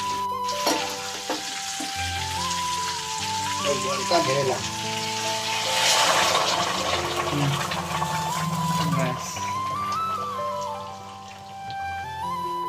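Water poured into chicken kosha sizzling and frying in a pan, a steady crackling hiss that swells briefly as the liquid hits the hot meat, with faint stirring, continuous and close.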